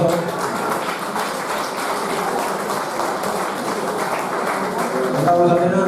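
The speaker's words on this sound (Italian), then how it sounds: "Un applauso." Applause for poets at a poetry gathering in Tzaramonte, a steady dense clapping wash sustained throughout at even loudness, with some murmuring voices mixed in.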